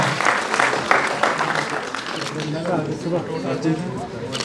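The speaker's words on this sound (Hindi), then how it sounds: "भरपूर तालियां हो जाए प्लीज" Applause at a NEET felicitation ceremony in Srinagar, a crowd clapping continuously with a voice speaking over the clapping part of the way through.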